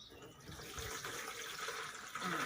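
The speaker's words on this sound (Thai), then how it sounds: "อันนี้เราสามารถเทน้ำทิ้งได้เลยนะคะ" Soaking water is poured off mung beans that have been left to sprout overnight, giving a steady, close splashing pour that runs without a break and grows a little louder near the end.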